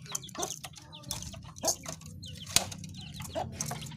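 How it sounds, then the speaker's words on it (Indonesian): Captured young green junglefowl cluck softly and repeatedly, with a few short bird calls scattered over a faint, steady outdoor background. "ayam hutan hijau tangkapan."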